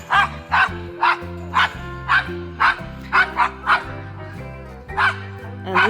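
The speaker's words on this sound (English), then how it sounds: "Dog's playing with the goat." A dog barks repeatedly in short, loud, near bursts while playing with a goat on a spring homestead, the barks spaced in an uneven rhythm with a steady hum underneath.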